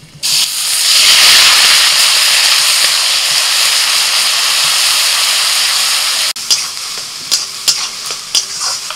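Loud, steady sizzling of onion paste frying in hot oil for several seconds, then a quieter crackle broken by scattered sharp clicks.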